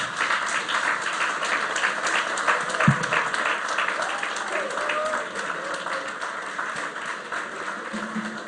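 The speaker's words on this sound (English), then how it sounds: "Shall we please give him another round of applause?" At the close of the 7th Nathan Anang Quao Excellence Lecture, the audience keeps up a steady round of applause that slowly thins out and fades.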